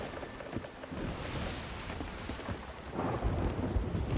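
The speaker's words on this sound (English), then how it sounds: "I'm in the storm slightly now" A thunderstorm in the video game Sea of Thieves, with thunder rumbling and rolling through steady rain, swelling louder near the end, heard at sea without talk.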